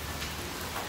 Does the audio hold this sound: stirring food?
no